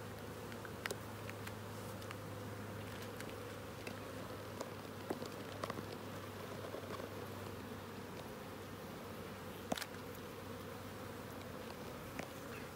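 A steady, low buzz of honeybees around a hive fills the whole stretch, with a few faint clicks and taps scattered over it.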